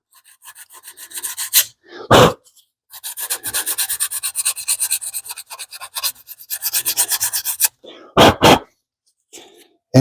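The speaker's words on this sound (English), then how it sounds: "I'm just going to scuff it." Hand scuffing with 150 grit sandpaper on a custom grill body, heard as loud, close bursts of rapid back-and-forth rasping strokes separated by brief pauses and a few sharp knocks, with no talking.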